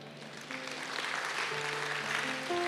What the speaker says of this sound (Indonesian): Tepuk tangannya bisa lebih dahsyat lagi buat Tuhan.